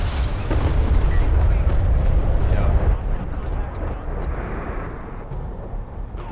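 Massed artillery cruisers fire on an enemy base in the space strategy game Homeworld, producing a dense, sustained roar of heavy booms and rumbling blasts that stays loud and continuous, slowly easing off toward the end.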